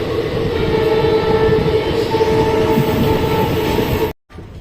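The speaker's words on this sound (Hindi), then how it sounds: "तो फाइनली अपना अराइवल हो रहा है जयपुर जंक्शन रेलवे स्टेशन पर" A Ranikhet Express passenger train pulls into Jaipur Junction railway station, a loud, steady rumble of rolling wagons and wheels close by, with a faint horn-like tone. The noise cuts out sharply near the end.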